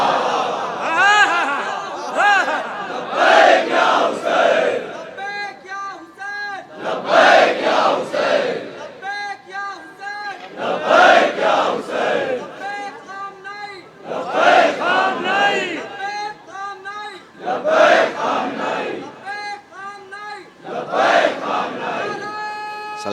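A large crowd at a Muharram procession chants the Haidari slogan in loud, repeated bursts of roughly four seconds each. Short pauses separate the bursts, and a voice can be heard in some of those gaps.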